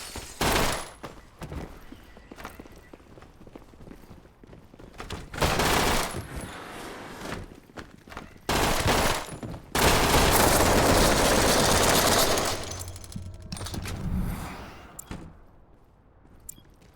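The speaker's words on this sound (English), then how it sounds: "That's why people use machine guns." Automatic weapon fire in the top-down game Hotline Miami, heard as repeated loud bursts of rapid shots of varying length with brief pauses between them, harsh and close, with no voices.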